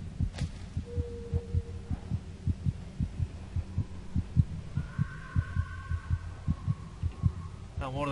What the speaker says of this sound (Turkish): Kalp atışları.